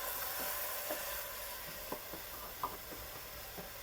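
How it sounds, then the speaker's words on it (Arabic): Washed rice tipped into a pan of fried vermicelli and ghee gives a soft, steady sizzle with a few light clicks and taps of stirring, close up and quiet, with no voices. "ابتدي بقى اضيف الرز بتاعي اللي انا غسلاه."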